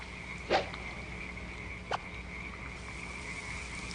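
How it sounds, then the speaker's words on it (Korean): A male toad clasping a female gives two short croaking warning calls, about a second and a half apart, close over a steady background of insect and ambient noise. "암컷을 안고 있는 수컷을 또 다른 수컷이 와서 안고 싶어하면 이와 같은 경고의 소리를 지른답니다"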